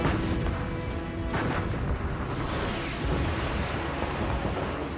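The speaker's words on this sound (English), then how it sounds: "the German battleship Bismarck and heavy cruiser Prinz Eugen, exchange fire with the pride of the British Navy" Heavy naval gunfire between the battleships Bismarck and Hood rumbles in dense, booming waves with a brief whistling shriek overhead, loud and continuous.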